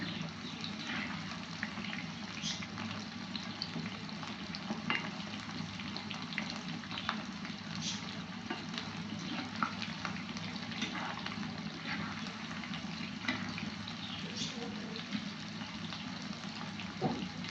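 About 300 grams of chicken pieces deep-fry in oil for restaurant-style chilli chicken, giving a steady, soft bubbling hiss that runs unbroken and fairly quiet throughout, with no talking.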